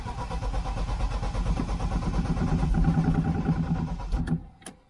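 An engine with a weak, nearly dead battery cranks over and over trying to start, a rapid rhythmic churning that swells and then cuts off with a couple of clicks.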